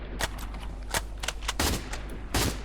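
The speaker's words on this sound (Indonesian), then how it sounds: "Gak kena-kena nembak nih" Rapid bursts of gunfire in the mobile battle royale game Free Fire MAX played on an Android emulator, several sharp volleys spread across the clip with no talking.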